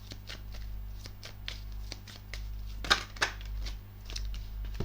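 Tarot cards shuffled and drawn by hand, a run of soft papery flicks and snaps with two sharper slaps near the middle, close and alone over a low steady hum.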